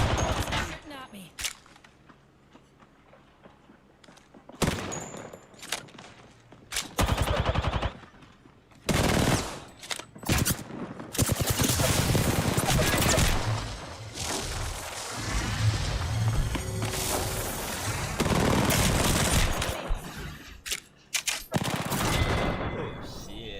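Video game gunfire arrives in bursts, rapid automatic fire and loud shots coming and going in dense clusters with quieter gaps, while a player talks over parts of it.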